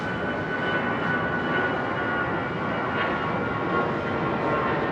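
A Vietnam Airlines airliner departing Heathrow Airport with its landing gear still down, a steady, loud broadband engine roar with a faint whine that stays constant throughout.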